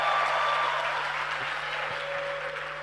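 A large group of students claps together in dense, sustained applause, a continuous wash of many hands at moderate distance with a faint steady hum underneath.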